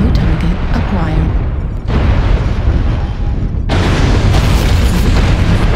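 Loud missile blasts pound a mech in MechWarrior, heavy booming explosions rolling in waves over several seconds, with a voice talking through the noise.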